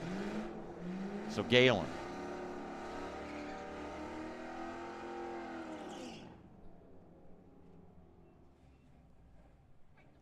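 A Ford Mustang and a 1970 Challenger launch down a drag strip at Firebird Raceway, engines roaring loud and steady with a sharp burst near the start, then fading away into distant rumble while an announcer talks over it.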